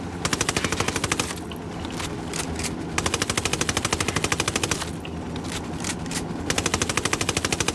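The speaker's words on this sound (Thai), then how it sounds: "Apache's about to fire" Machine gun fire from an Apache attack helicopter in the Ghost Recon Wildlands video game, loud rapid bursts repeating in a steady rhythm, broken by short pauses, with a constant engine-like rumble underneath.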